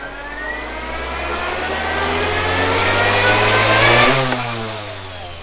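A Goosky S2 Legend RC collective-pitch helicopter spins up in idle up 1 with a loud, close whine that steadily climbs in pitch, then drops sharply as the throttle is cut near the end, with no talking.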